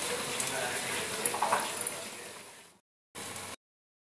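Sweet potato jilipi frying in hot oil makes a fairly loud, bubbling sizzle that fades out, then returns in a brief burst after a short silence.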